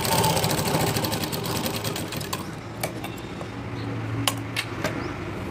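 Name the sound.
sewing machine doing top stitch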